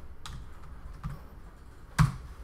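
A few sparse keystrokes on a computer keyboard while typing a command in Rhino 3D, soft separated taps ending in a firmer final press, with no one talking.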